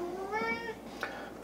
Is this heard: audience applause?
no